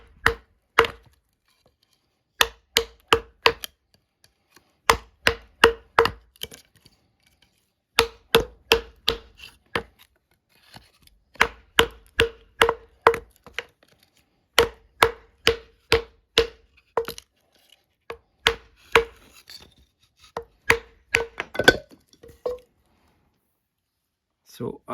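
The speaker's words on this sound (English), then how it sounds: "when you need to cut down a tree with a smaller knife, you could use the cross-cut batoning technique" Cross-cut batoning of wood with a Varusteleka Jaakaripuukko 110 puukko knife, rapid groups of sharp, close wooden knocks struck in bursts with short pauses between, the strikes steady and percussive throughout.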